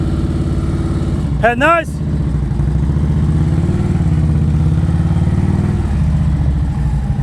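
A motorcycle rolls at slow speed during an advanced slow-riding practice session on a North Carolina course, its steady mid-low engine drone running throughout while an instructor talks briefly over it.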